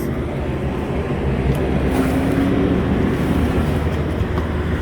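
A loud U.S. Foods delivery truck rumbles steadily past close by, a dense low roar filling the whole stretch with no talk over it.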